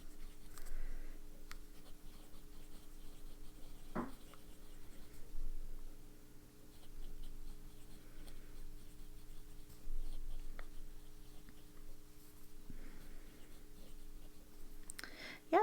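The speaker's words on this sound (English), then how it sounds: "Yeah, the nib writes nicely." A Lamy Aion fountain pen in dark green, a 2021 special edition, writes on paper with Vinta ink, giving soft, steady nib scratching with a few light clicks, close and quiet, with no talk.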